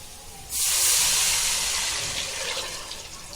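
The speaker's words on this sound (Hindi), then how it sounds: "अभी हम पानी डालेंगे।" A sudden loud rushing hiss as water hits a hot pan of fried onions for biryani, bursting in abruptly and then slowly fading into a steady steaming sizzle.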